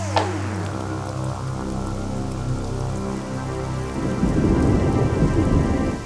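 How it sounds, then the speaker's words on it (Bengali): Steady heavy rain pours down with a sharp crack of thunder at the start and deep rolling rumbles, growing into a louder downpour near the end, close and continuous. "এই রে, মুখের কথা শেষ হতে না হতেই বৃষ্টি শুরু হয়ে গেল।"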